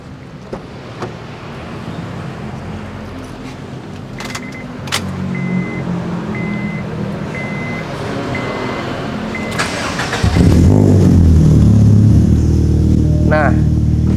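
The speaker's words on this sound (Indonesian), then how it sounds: "ini dia kalau ibaratkan dia lagi menyala dengan cold start alias mesin yang cukup dingin guys" A modified Honda Civic FD Mugen engine cold-starts after some clicks and rustling, then settles into a loud, rumbling idle close by.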